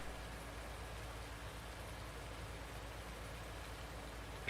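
Rain falls in the video game Farming Simulator 19, a faint, even hiss of raindrops that holds steady throughout, with a brief sharp click at the very end.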